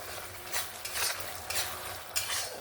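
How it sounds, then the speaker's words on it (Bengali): Mustard paste stir-fried in a pan while cooking a spicy fish curry with bitter gourd and eggplant: a steady soft sizzle, with a few louder scraping stirs of a spatula at regular intervals, close and alone. "সর্ষে বাটাটা দিয়ে 1 মিনিটের মতন একটু কষিয়ে নেব।"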